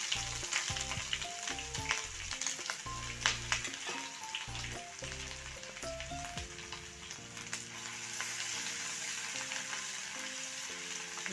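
Ginger garlic paste frying in a pan for Nagauri dal tadka gives a steady, faint sizzle, heard under background music with no talking.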